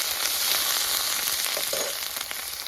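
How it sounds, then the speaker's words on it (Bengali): Ground onion paste frying in hot oil for a homemade matar paneer curry, a dense, loud, even hiss of sizzling heard up close with a faint stir near the end. "পেঁয়াজটা হালকা হালকা ভাজা হয়ে গেছে"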